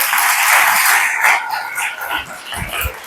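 A seminar audience claps for a woman participant, a burst of dense applause that rings loudest at the start and then thins out into scattered claps.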